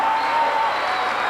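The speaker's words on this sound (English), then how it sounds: "This crowd alive." Basketball crowd in Civic Hall roaring and applauding at a game, a loud, sustained wall of cheering filling the arena with no break.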